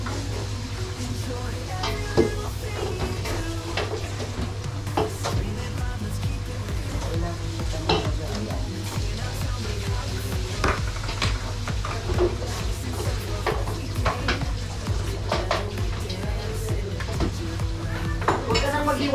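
Onions are stirred in a pan with a metal utensil, making steady clinks and scrapes over a faint sizzle, while voices talk in the background of a busy home kitchen.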